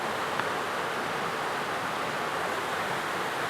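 Waterfalls in the Jamaican mountains send up a steady broadband roar of rushing water, even and unbroken, heard from a distance with no voices over it.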